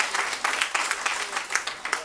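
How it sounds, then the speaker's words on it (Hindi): Scattered, uneven clapping rises from the audience at a Hindi poetry gathering, a modest round of applause with distinct individual claps and no speech. "उनके लिए तालियां बजा दो भैया के लिए"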